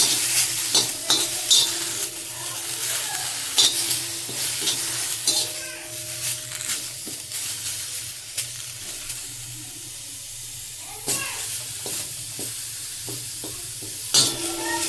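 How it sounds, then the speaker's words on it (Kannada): Coriander and curry leaves frying in a pan give a steady close sizzle, broken by repeated stirring scrapes and clinks throughout. "ನೆಕ್ಸ್ಟು ಕೊತ್ತಂಬರಿ ಮತ್ತು ಕರಿಬೇವು ಫ್ರೈ ಮಾಡ್ಕೊತಿದ್ದೀನಿ"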